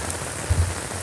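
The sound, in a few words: light rain falling on a road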